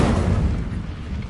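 A brief, loud burst of fiery roar erupts from an Incendio fire spell in a video game, a dense whooshing blast lasting just over a second with no talk.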